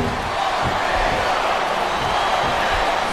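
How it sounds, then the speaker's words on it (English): A wrestling arena crowd in the SmackDown vs. Raw 2007 video game gives off a steady, dense roar with dull thumps scattered through it, all at a fairly constant level. "Sounds like this crowd's got something on their minds"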